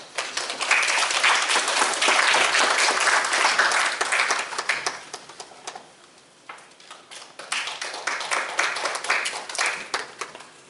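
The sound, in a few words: audience applause welcoming speaker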